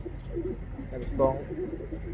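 A pigeon coos softly nearby, low and murmuring, against a quiet room background with faint voices.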